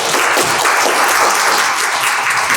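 A seated audience at a Korean industry competitiveness forum on energy and chemicals gives panel discussants a steady burst of applause, dense and close throughout.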